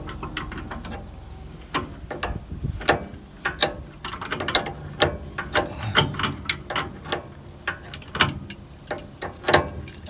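Ratchet tightening a steering stabilizer bolt on a 1964 Chevrolet C10 truck, a run of crisp, close clicking bursts with uneven pauses between strokes.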